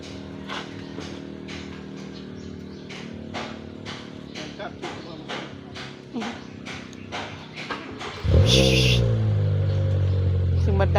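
An aging car's engine cranks and catches about eight seconds in, jumping to a loud, steady running rumble after a stretch of light, rhythmic clicking and ticking.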